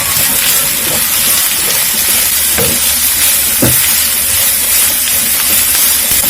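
Carrots hit a hot pan with ginger and garlic, a loud steady hiss and sizzle with a couple of sharp stirring clanks, close up, no talking.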